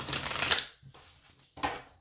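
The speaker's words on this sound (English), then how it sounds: "Oh, look at the shuffle, man." A deck of tarot cards is riffled and shuffled close up: a dense crisp burst, a brief pause, then a softer flick and another shorter riffle.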